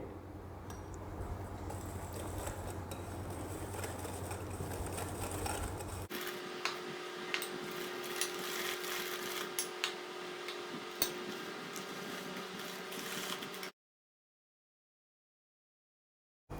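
An electric mixer beats maida and besan into a soft, spongy batter for bakery-style nankhatai, its motor whirring steadily with light ticking and clinking, changing pitch partway before cutting off into silence.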